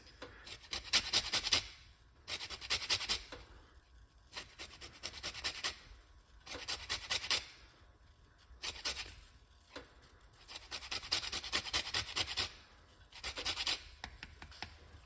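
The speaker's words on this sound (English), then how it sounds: "So zest up the lemon like that." A lemon is zested on a grater in rhythmic bursts of close, dry rasping strokes, about seven scraping passes separated by short pauses, with no talk over them.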